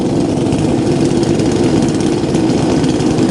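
A McCulloch 1010 automatic chainsaw runs after a cold start, its small two-stroke engine holding a loud, steady, buzzing idle close to the listener with no talk.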